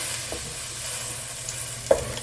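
Fried masala for a barramundi (betki) fish curry sizzles steadily as water goes into the pan, with a soft clink of a utensil near the end and no voices.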